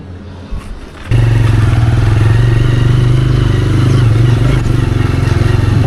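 Motorcycle riding on the road to Old Manali: the engine kicks in loud and close after about a second, then holds a steady, throbbing drone with faint road clatter.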